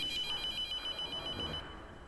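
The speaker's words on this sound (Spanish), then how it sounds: "¿Teléfono?" A telephone rings in a horror video game, a steady electronic bell tone repeating in short bursts over dim, noisy ambience before trailing off.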